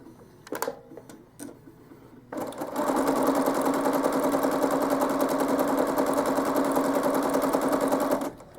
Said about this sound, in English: So I'm going to make my first run of stitching.